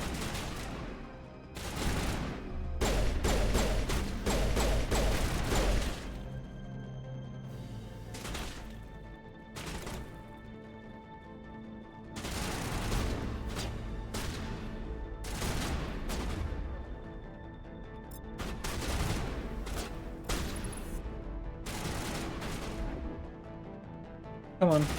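Gunfire in the Mass Effect 1 game: dense bursts of rapid shots and sharp impacts, loud and close, with quieter gaps between volleys.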